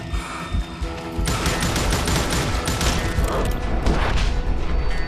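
Shotgun fire in the video game Gunslinger, loud booming blasts that erupt after a quieter opening and then continue as a dense, continuous barrage with heavy, crashing low impacts.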